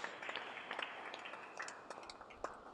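A congregation claps in praise during a Tamil Christian worship service, a faint, steady patter of many hands heard from a distance throughout.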